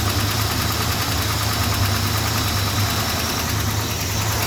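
A Mopar engine with noisy lifters idles close by, holding a steady, loud rumble with a fast, even ticking and knocking running through it, with no talking.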